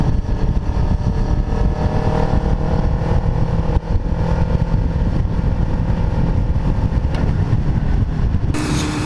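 A Suzuki Gixxer 1000 sport motorcycle rides along the road, its engine droning loud and steady under heavy wind rush, with no talk.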